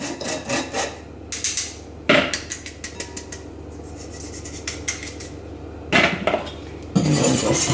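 Icing sugar for gluten-free gingerbread icing is sifted through a metal sieve, giving bursts of gritty rasping and tapping with quieter gaps between them. The sound is close and fairly loud, with no talking.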